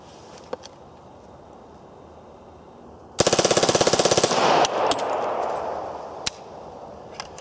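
A Reising submachine gun fires a single rapid burst of 20 rounds from a newly bought magazine, sharp, loud and fast-paced shots lasting about a second, followed by a lingering echoing tail and a couple of isolated clicks.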